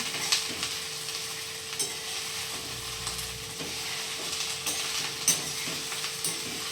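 Okra fries in a pan with a steady, close sizzle while a utensil stirs it, adding occasional soft scrapes and clinks, and no one speaks.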